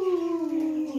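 A dog gives a single sustained, slowly falling howl, close and clear, with no talk over it.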